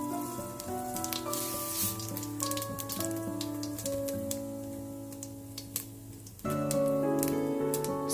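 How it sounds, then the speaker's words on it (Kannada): Mustard seeds pop in hot oil in a pan, making a quick scatter of sharp, faint crackles over steady background music. "ಸಾಸಿವೆ ಚಟಪಟ ಅಂತ ಸಿಡಿತಾ ಇದೆ."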